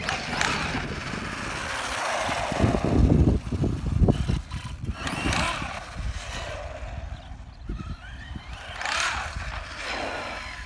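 Arrma Kraton EXB RC car accelerating hard on backflip wheels and tires, a loud whirring drivetrain with gear noise, surging in bursts with tire and body clatter on the ground.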